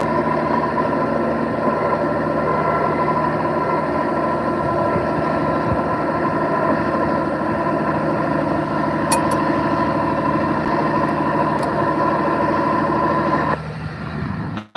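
An International 1486 tractor pulling an Allis Chalmers cultivator runs with a steady, loud engine drone, heard from the cab, which drops away near the end.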